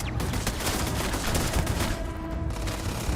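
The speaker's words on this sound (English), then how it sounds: "But then he just starts opening fire anyway," A non-player character opens fire in the space game Starfield, producing a dense, continuous burst of rapid gunshots that rolls on loudly throughout.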